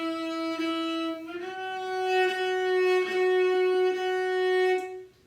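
Cello playing a slow bowed scale, with a shift up into fifth position, a few sustained notes in succession, close and clear with no talking.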